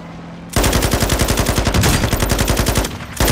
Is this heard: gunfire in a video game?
yes